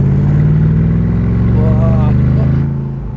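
A 2008 Mercedes SLR McLaren Roadster's supercharged engine runs loud and close with a steady, rumbling low drone and supercharger whine, while a man makes a brief astonished exclamation over it.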